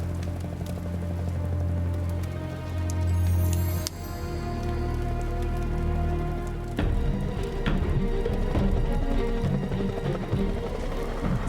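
A waterfall rushes in a steady, dense roar that fills the whole clip, loud and continuous with a brief dip near the middle and no talk over it.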